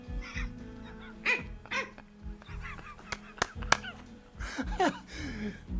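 A voice imitating a dog, letting out irregular barks, yips and whimpering sounds in short bursts.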